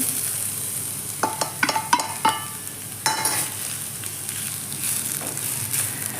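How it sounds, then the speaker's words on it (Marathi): Finely grated raw potato, mixed with ajwain and fennel seeds, stirred and roasting in a hot pan, with soft crackling and a few scraping clinks from the spatula. "बटाटा घालून चांगलं भाजून घ्यायचं"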